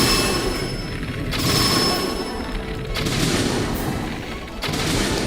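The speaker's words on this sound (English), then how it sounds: "arguably the best bow in the game is the Savage Lynel Bow" Savage Lynel Bow shots in the game Zelda: Breath of the Wild, three or four loud bursty impacts at steady intervals over a dense, roaring game soundscape.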